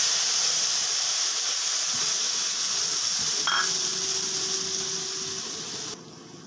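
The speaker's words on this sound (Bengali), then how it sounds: "এবার আমি মশলাটাকে কষিয়ে নিচ্ছি" Spice paste for chitol fish kalia sizzles in a pan with a steady, fairly loud hiss, with a brief stir partway through, fading slightly toward the end.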